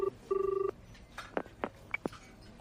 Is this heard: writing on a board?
no